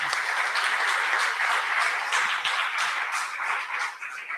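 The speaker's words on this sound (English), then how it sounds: "Round of applause" A round of applause from the audience at a live political forum, made of steady clapping close by that carries on evenly and then tapers off slightly toward the end.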